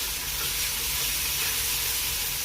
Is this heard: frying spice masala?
yes